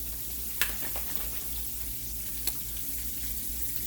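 Whiting fish filets fry in hot oil with a steady, soft sizzle and hiss running throughout, broken by two brief sharp pops, with no talking.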